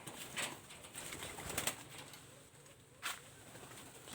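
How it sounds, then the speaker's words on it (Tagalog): A pet spotted dove (tukmo) coos softly in a faint, distant outdoor setting, giving a few brief low calls with rustling and light flutters between them, no talking. "Ito yung tukmo ko."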